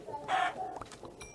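A chicken in the Minecraft video game lets out a short, quiet cluck, brief and alone against a low background hum.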